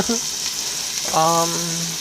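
Beans cooking in a pan give off a steady, close sizzle throughout, with a couple of brief tonal squeaks over the frying hiss.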